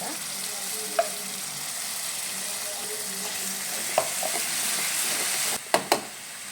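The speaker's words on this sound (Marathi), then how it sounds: "आता आपल्याला टमाटा वाटून घेतलेला त्याच्यात घालून घ्यायचा आहे" Ground tomato goes into a pan of frying soybean masala for a spicy rassa curry, raising a steady, close sizzle and hiss, with a few sharp clinks and stirring knocks near the start and end.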